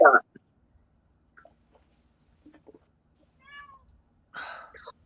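A cat meows once clearly in a quiet room, surrounded by scattered soft clicks and brief murmured voices.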